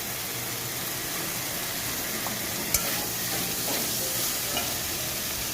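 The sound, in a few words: potatoes being sautéed in a pan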